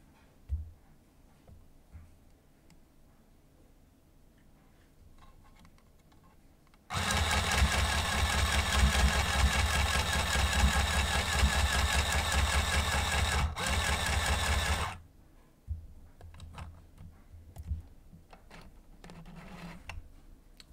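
Sewing machine straining to sew a seam through folded jeans fabric, one loud continuous run of about eight seconds between quieter stretches.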